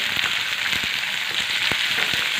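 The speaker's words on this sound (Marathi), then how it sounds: "ह्या शेंगा आपल्याला तेलामध्ये ना मस्त अशा छान भाजून घ्यायचे आहेत" Fresh cowpea pods fry in hot oil for a village-style curry, giving a loud, steady sizzle with soft knocks from stirring scattered throughout.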